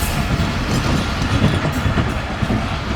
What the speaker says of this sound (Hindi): ट्रेन जा चुकी है हमें उतार के